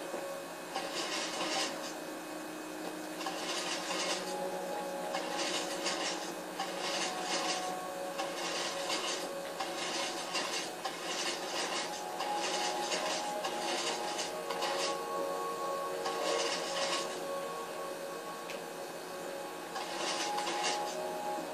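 A useless machine runs, giving repeated bursts of whirring, rubbing mechanical noise at a steady rhythm, close and moderately loud with no talking.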